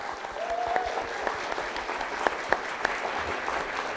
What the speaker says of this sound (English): Yes, a big round of applause for them, please.